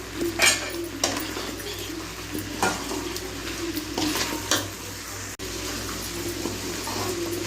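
Mutton masala and coriander powders are mixed into a pumpkin palya in a pan. A gentle sizzle sits under repeated scraping stirs and light clinks of a spoon against the metal pan, with no voices.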